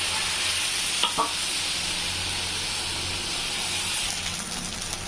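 Sabudana dosa batter fries on a hot griddle with a constant loud hissing sizzle and a couple of brief clicks from a utensil, close up and without talking.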